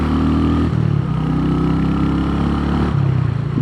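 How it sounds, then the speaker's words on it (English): Royal Enfield HNTR 350 motorcycle exhaust, a steady raspy engine note that shifts pitch as it goes in and out of gear, loud and close while riding on the road. "Great little raspy note from the exhaust there."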